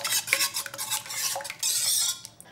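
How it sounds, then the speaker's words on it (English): Stirring two eggs into a bread dough mixture in a bowl with a utensil, giving a steady run of close scraping and clinking strokes with no talking. "Just stir this."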